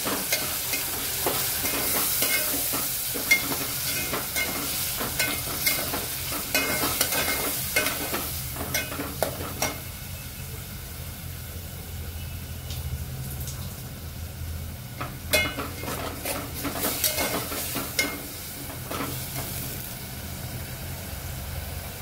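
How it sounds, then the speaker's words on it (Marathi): Chopped tomatoes sauté in oil in a pan for biryani, a continuous frying sizzle broken by frequent spatula scrapes and stirs, close and steady with no one speaking. "छोटेसे 2 घेतलेले, तेल सुटे पण परतून घेऊया।"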